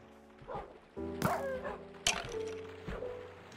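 A tamed dog in the Minecraft video game barks several times in quick, yipping bursts, the first short and the later ones sharper and louder, close and clear over a quiet game background.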